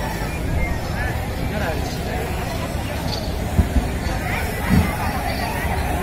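Noisy crowd at a public gathering during a cultural program, a continuous babble of many voices and shouting, with a few sharper knocks standing out from the dense chatter.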